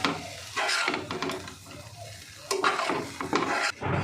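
Yogurt is stirred spoon by spoon into oats pulao in a pan, with close scraping and stirring strokes in uneven bursts over a faint sizzle and no talk.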